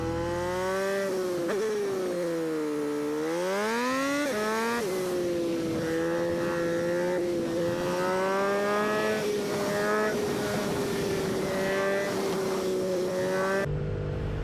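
A Norton Commando motorcycle engine runs hard at speed, a loud, steady tone rising and falling with the throttle and holding a sustained high-revving drone throughout.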